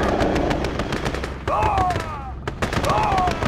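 Rapid gunfire and bursts of combat as a base comes under attack in the real-time strategy game Command & Conquer Red Alert 2: Yuri's Revenge, dense and continuous with whistling sweeps and explosive hits, a voice speaking over it.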